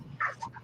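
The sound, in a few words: dog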